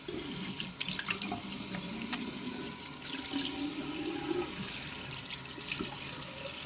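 Water runs steadily from a bathroom tap into a sink while a face mask is rinsed off, with continuous splashing and small bursts of spatter, close and without speech.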